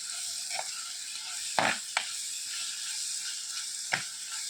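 Tomatoes dropped into a pan of fried onions bring a steady close sizzle, with a few sharper bursts of hiss and stirring clatter as the pieces hit the hot oil.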